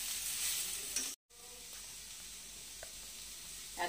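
Onions and turmeric fry in hot oil for a Bengali neem-leaf and eggplant dish, giving a soft, continuous sizzle with light stirring and a brief cutout near the start, with no talk.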